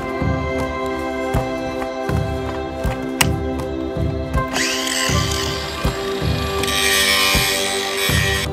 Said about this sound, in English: Just thought I'd try to sharpen those blades on the other side with the back side of this disc